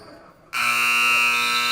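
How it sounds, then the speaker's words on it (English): A basketball game-ending buzzer at a college men's game sounds loud and steady, cutting in abruptly after a quiet moment and holding a harsh, sustained electronic tone to the end. "you'll hear the buzzer in a second"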